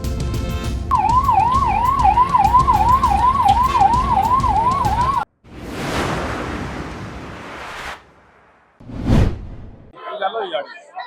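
A loud wailing ambulance siren cycles up and down rapidly for several seconds, then cuts off, followed by whooshing passes and brief noisy bursts, at the scene of a roof collapse.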